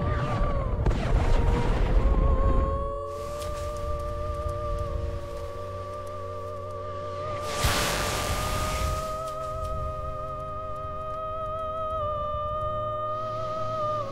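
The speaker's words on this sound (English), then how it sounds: "An explosion, as powerful as 10 billion World War II atomic bombs." A colossal asteroid impact explosion rendered as a sound effect: a heavy booming blast at the start and a second sharp burst midway, each rumbling out under sustained orchestral music.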